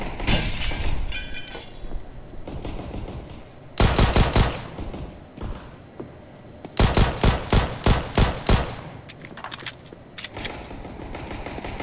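Rapid SMG gunfire in the video game CS:GO, loud close bursts of rattling shots with brief pauses, broken up by quieter game sounds between volleys.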